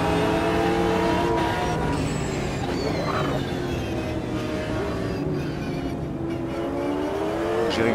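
A Lamborghini race car engine in Automobilista 2 at the Zandvoort circuit roars loudly and continuously, its harmonic whine climbing and falling through gear changes and revs, with faint tire squeal.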